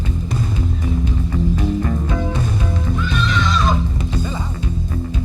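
Horses on the Venezuelan plains at Hato El Frío in Apure neigh loudly and close by, with one clear whinny midway and hoof clip-clop beneath, all under steady outdoor noise.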